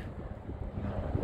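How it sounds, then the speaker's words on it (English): Strong wind gusts of 25 to 30 mph buffet the microphone outdoors, a low, rough rumble that holds steady for about a second. "Ooh, it's windy."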